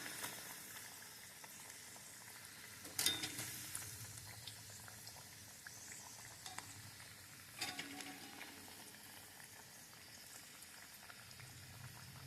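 Kari vadai, spiced meat fritters, frying in hot oil, a quiet steady bubbling sizzle with a few louder crackles and clinks near the start and midway, heard alone with no voices.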